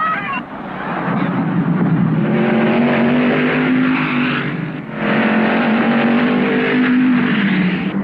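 Race cars run around a track, loud engine drone with rising and falling pitch as they accelerate and pass, continuous and close throughout.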